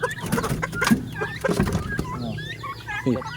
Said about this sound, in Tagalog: Manok na puti.